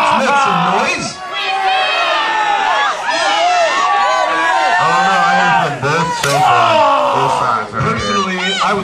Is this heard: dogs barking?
no